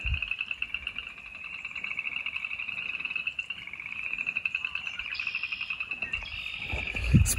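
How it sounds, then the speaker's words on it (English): Frogs croak in a dense, pulsing chorus in a Tennessee swamp, a steady high trill running throughout, while a small bird calls from a nearby tree near the end. "There's a bunch of frogs out here and a cool little bird up there in the tree."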